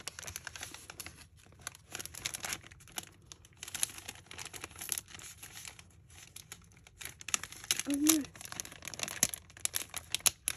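Crinkling and tearing of paper gift wrapping as a stapled parcel is opened, with broadband rustles and crackles running throughout at close range, and a brief voice sound near the end.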